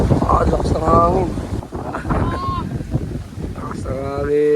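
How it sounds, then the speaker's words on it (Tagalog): Strong wind buffets the microphone in loud, continuous rumbling gusts while people talk throughout, with a brief lull near the middle during an outdoor test flight. "Di talaga kaya lakas ng hangin."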